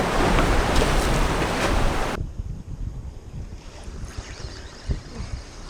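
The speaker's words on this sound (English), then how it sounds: "it's getting a little windy out here" Loud wind rushes across the microphone near the sea for about two seconds, then drops to a softer gusty hiss with faint water washing below.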